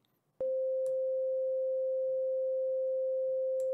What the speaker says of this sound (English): if you have two oscillators with the same type of shape, in this case, a sine wave, and you have at the same frequency